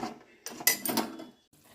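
Butter being stirred in a pot on the stove as it heats into ghee, a spoon scraping the bottom in a few quick, close clinks and rubs, with a short pause near the end.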